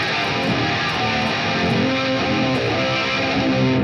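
A sustained, heavily processed guitar note rings out through the Wavemorph synth pedal effect on a Fender Tone Master Pro, maxed to 100%, thick and steady with a buzzing, saturated texture.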